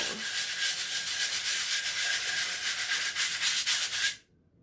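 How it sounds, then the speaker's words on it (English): Sandpaper buffs a layout in light circles, a steady dry rubbing hiss that carries on evenly and close for about four seconds and then stops abruptly. "Sanding a layout is not easy, but I kind of think of it as buffing it, just light circles until we kind of get it down."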